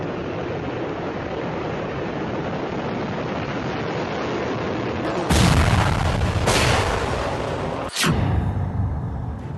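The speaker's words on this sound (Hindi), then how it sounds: "एक धमाके के साथ भारत की महा मिसाइल आसमान का सीना चीरते हुए दहाड़ने लगी" An Agni-5 missile launches from Wheeler Island, Odisha: a sustained, noisy roar builds abruptly after steady background rumble, surging loud and broad, with a sharp blast-like burst near the end; no talking.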